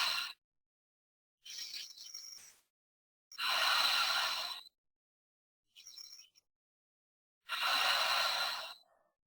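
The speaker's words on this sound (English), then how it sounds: "we're going to breathe in through the nose and exhale out the mouth." Three slow clearing breaths at the end of a yoga practice, each a soft inhale through the nose followed by a long, audible exhale out the mouth, separated by silence.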